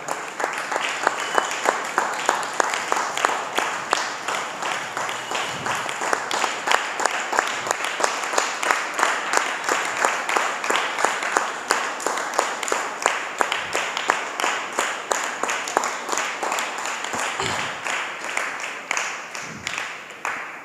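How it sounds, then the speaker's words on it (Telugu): A seated audience gathered for a youth fellowship meeting breaks into loud, sustained applause to welcome a guest, the dense clapping continuing steadily for about twenty seconds. "మీరందరూ మేడంను స్వాగతిస్తూ మీ యొక్క చేతులతో చప్పట్లు కొట్టవలసిన కోరుచున్నాము"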